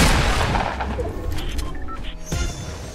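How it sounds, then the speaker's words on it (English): Grenade blast in Fortnite Battle Royale, a loud booming explosion at the start followed by scattered crackling gunfire and impacts that trail off over a few seconds. "I'm gonna hit him with a god nade."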